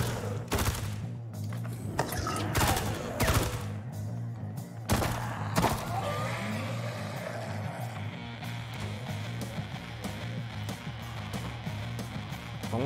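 Minigun fire in Zombieland: Double Tap, several loud bursts of shots early on over a steady low engine-like hum, giving way to a sustained whirring rattle and background noise.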